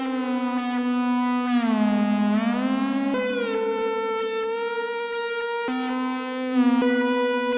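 Sustained synth-like tones with stacked harmonics glide and step between pitches, washed in stereo reverb and ping-pong delay, with abrupt changes and lingering tails; no voices.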